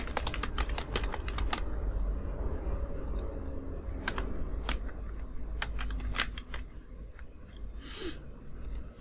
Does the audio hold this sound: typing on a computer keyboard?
yes